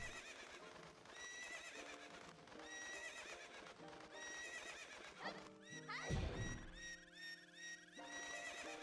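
Synthesized video game music plays with a horse whinnying loudly partway through, a descending neigh that rings out over the melody.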